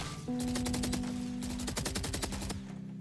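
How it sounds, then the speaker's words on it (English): Vandal rifle fire in the shooter game Valorant, sustained rapid automatic bursts, crisp and evenly spaced, over a faint steady tone, with a brief pause before another quick burst. "I'm just intentionally, you know, missing my first shot, but then I can still control the bullet and kill some people"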